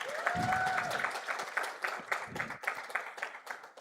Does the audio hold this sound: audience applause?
yes